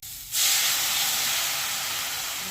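Water poured into a hot pan of ripe mango chutney with salt and turmeric bursts into a loud, steady steam hiss and sizzle that starts abruptly after a brief quiet moment and holds alone, slowly easing.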